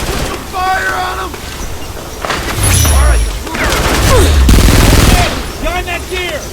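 Gunfire rattles through a battle in the video game Frontlines: Fuel of War, with dense bursts of shots, heavy booms and rumbling vehicle noise layered loudly amid shouted voices.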